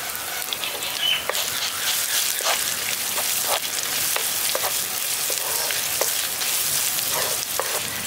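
Ginger garlic paste with turmeric and Kashmiri chili powder fries in a pan for a pointed gourd dish, giving a close, steady sizzle dotted with sharper crackles and pops throughout.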